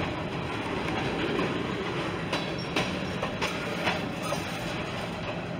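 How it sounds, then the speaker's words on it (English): A train rolls along railroad tracks outdoors, making a steady broadband rumble with faint rhythmic clicks of the wheels, heard from a moderate distance without talk. "Oh man, there's the train."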